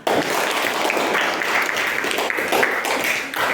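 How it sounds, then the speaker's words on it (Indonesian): Classroom students clap together for a group presentation, a dense, steady patter of many hands filling the room throughout before tapering off at the end. "Tepuk tangan dulu nak."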